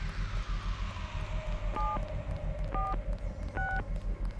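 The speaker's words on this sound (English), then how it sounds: "I like that touchpad sound. It's a nice touch." Touchpad keypad beeps from the video game Deus Ex, three short paired electronic tones spaced about a second apart over a quiet hum, with a faint gliding tone underneath.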